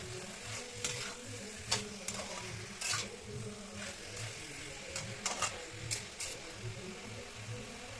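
Potatoes stirred in a cooking pan, with a soft sizzle running underneath a string of sharp spatula scrapes and clinks against the metal at an uneven pace, close by.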